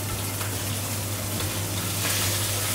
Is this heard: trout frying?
yes